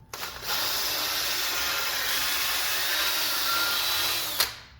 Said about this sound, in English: go in there with the drill